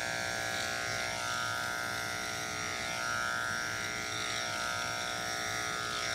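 Electric dog clippers run steadily through a Goldendoodle's thick coat, giving a continuous close mechanical buzz with a faint rise and fall as the blade meets the fur.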